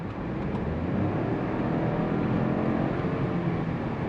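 A 2022 Chevrolet Trailblazer ACTIV AWD with a 3-cylinder engine accelerates, its steady broadband engine and road noise holding loud and even from inside the cabin throughout.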